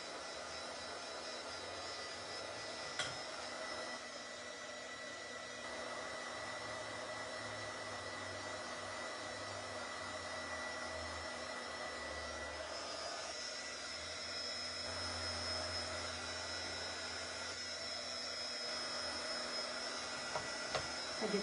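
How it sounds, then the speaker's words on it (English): An embossing heat gun blows steadily nearby, a constant whooshing fan hiss with a faint motor hum that runs unbroken, with small fluctuations and a couple of light clicks. "That's an embossing gun, so I suppose it gets way too hot."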